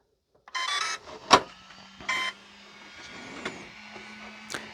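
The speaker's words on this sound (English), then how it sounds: "I'm going to power up the car first." A Rlaarlo AK-917 1/10 carbon fiber brushless RC on-road car powers up: a few short electronic beeps and whirs, sharp clicks and a low steady hum, close and fairly quiet, with no talking.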